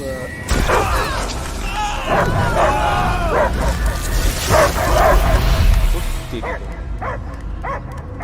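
A dog barks and yips repeatedly in the video game Marvel's Guardians of the Galaxy, over mechanical clanking and game sound effects, with a voice talking underneath.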